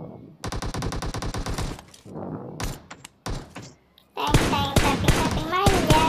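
Rapid bursts of automatic gunfire in a PUBG Mobile match, fired at a car, with loud rattling volleys, a few single thuds and shots, then a denser, louder barrage of shooting near the end.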